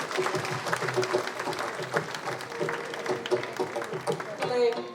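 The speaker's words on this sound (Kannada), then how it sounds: "ನಿಮ್ಮ ಅಭಿನಂದನೆಯ ಪ್ರೀತಿಯ ಚಪ್ಪಾಳೆ ಮತ್ತೊಮ್ಮೆ ಎಲ್ಲ ಸಾಧಕರಿಗೆ" An audience at an awards ceremony for achievers claps steadily, a soft, dense patter heard at a distance beneath a speaker's amplified voice.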